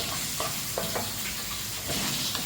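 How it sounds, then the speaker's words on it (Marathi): Chopped onion sautéing in a hot pan, a steady close sizzle with light stirring scrapes breaking through now and then. "आता हा कांदा लालसर होईपर्यंत आपण परतून घेऊया"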